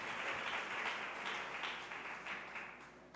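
A church congregation applauds, a broad wash of many hands clapping that holds steady then gradually thins and fades, distant and fairly faint.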